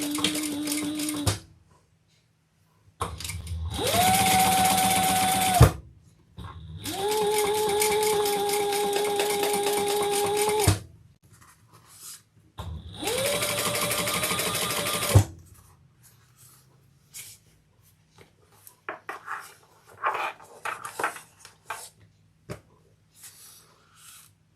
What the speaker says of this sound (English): now we're going to top stitch with the seam we just created underneath